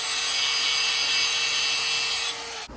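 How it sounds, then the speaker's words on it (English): A grinding wheel cuts through welded wire in a steady, loud, continuous high-pitched abrasive whine. It holds unbroken for over two seconds, then eases off and stops abruptly. "That's one way to wear out a grinding wheel real fast."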